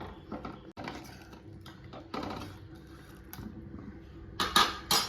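Cooked jackfruit seeds are mashed in a metal pot for a Kerala-style masala curry, with irregular scraping, knocking and clinking of a utensil against the pot, growing sharper and louder toward the end.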